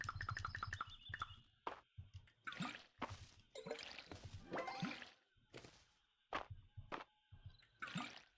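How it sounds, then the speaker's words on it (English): Watering plants with a watering can in the video game Fields of Mistria, repeated short splashing and dripping bursts in an irregular rhythm, clear and close. "let's water our plants."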